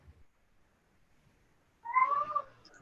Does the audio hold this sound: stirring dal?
no